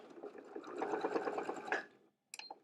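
A sewing machine runs steadily, stitching fabric for a zipper pouch, a close buzzing motor whir for about two seconds before stopping, followed by a brief faint click.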